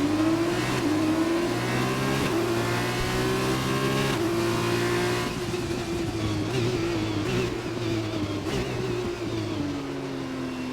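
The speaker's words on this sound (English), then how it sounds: "Right, going away for the formation lap" F2 race cars in an Xbox racing game pulling away on the formation lap at Bahrain International Circuit; a loud, continuous synthetic engine whine rising and shifting in pitch, with several engines layered together.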